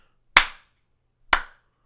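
Two sharp, isolated hand claps about a second apart, close and crisp, each ringing briefly in a quiet room, used to trigger a Clapper sound-activated light switch.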